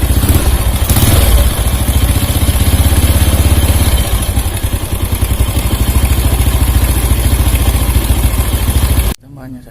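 Motorcycle engine idling after a spark plug repair, loud and close with a steady low chugging rumble and some mechanical clatter, running continuously until it cuts off abruptly near the end.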